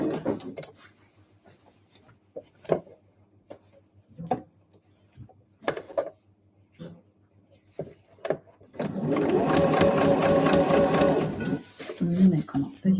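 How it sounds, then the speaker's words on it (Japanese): An electric sewing machine stitches a handmade eco bag. It runs in a steady, dense mechanical whir for a few seconds, following quiet handling sounds, with soft talk around it. "返し縫いしないで、また縫い始めていきます。"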